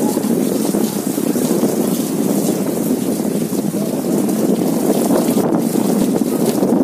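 A large ferry's propeller churns the water near a seashore, a loud, continuous rushing and gushing roar that holds steady throughout with no voices.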